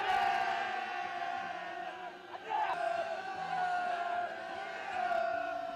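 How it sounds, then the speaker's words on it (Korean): Spectators at a workers' sports day of the Namhung Youth Chemical Complex in North Korea roar and cheer in a sustained crowd din, with rising shouts and whoops swelling in waves at a moderate distance. "응원자들의 열기 띤 함성이 끝없이 울려 퍼지고"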